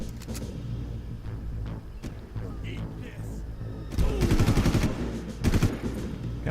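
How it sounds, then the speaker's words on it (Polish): Gunfire and a thrown grenade in the Far Cry video game, a dense rumbling barrage of shots and blasts that swells into a louder burst of rapid fire near the end, over a constant low game drone. "Rzuca granatem i jednocześnie strzela."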